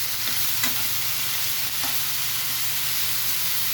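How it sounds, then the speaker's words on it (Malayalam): Chopped vegetables for a Kerala thoran being stirred in a frying pan, with a steady, close sizzle throughout and a few light scrapes of the spoon against the pan. "അതിനകത്തോട്ട് നമുക്ക് സാധനം അരിഞ്ഞ് വെച്ചേക്കുന്ന എല്ലാം നല്ലപോലെ ഇളക്കി കൊടുക്കുക"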